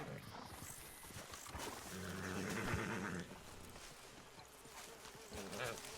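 Horse sounds from Red Dead Redemption 2, with a snort and whinny-like cry near the middle over a steady bed of outdoor ambience and hoof-like movement, moderately loud and close.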